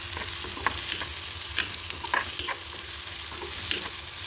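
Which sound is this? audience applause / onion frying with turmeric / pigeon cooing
onion frying with turmeric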